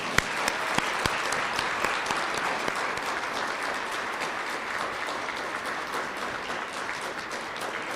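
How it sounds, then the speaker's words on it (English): Graduation ceremony audience for the class of 2020 claps steadily, a full, even roar of many hands with a few sharp close claps standing out at the start. "We applaud you."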